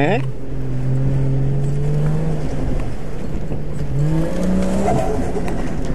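A Mazda RX8's rotary engine revs and drones as the car drifts during a young driver's practice, with rising and falling pitch and some tire noise, loud and close while people talk over it.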